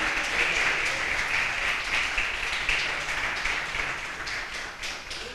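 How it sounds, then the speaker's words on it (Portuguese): A church congregation applauds in a sustained wash of many hands clapping, fairly loud and even throughout, with no voices standing out. "Diga glória a Deus, diga aleluia, diga louvado seja o Senhor, e aplauda o nome dEle."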